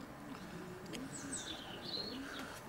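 Racing pigeons in a loft, with soft low cooing running through under faint higher chirps and calls, fairly quiet and steady throughout.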